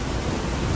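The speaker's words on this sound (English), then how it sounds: "No, it's raining." Steady rain falls in an animated show, a dense, uniform hiss of downpour that fills the whole brief moment with no voices.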